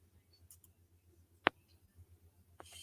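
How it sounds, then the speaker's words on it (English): A few sharp, isolated computer mouse clicks over a quiet background, one clear click in the middle and another near the end, close and crisp. "And mouse click."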